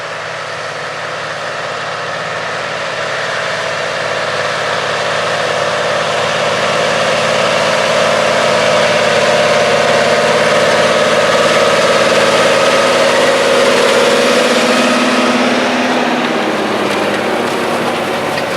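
A 570 hp John Deere 9570RX tractor engine idles steadily, a broad, constant mid-range drone with a low rumble, close and loud throughout with no talking.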